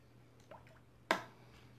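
A clean watercolor brush loaded with water is tapped onto paper, giving one faint soft wet tap followed by a single louder, brief splatty dab in a quiet room.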